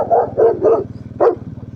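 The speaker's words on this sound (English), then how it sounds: "Fucking dog in the road." A big dog in a road in Spain or Portugal gives four quick, close barks over a steady rumbling vehicle engine.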